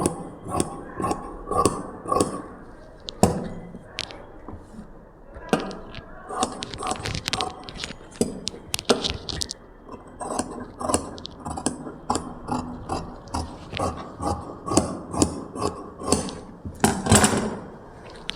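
Cloth being cut with scissors for a garment: repeated close crisp snips and clicks in irregular bursts, with fabric rustling and handling between cuts.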